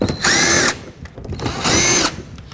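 A power tool spins out 7mm bolts holding the front bumper cover to the fender liner on a 2007-2010 Chrysler Sebring, two loud whirring bursts of about half a second each with a short pause between, no talk.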